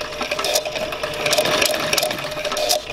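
Industrial sewing machine stitching through a stack of many thick material layers, a fast, steady mechanical whirr with rapid needle clatter running continuously for the whole stretch.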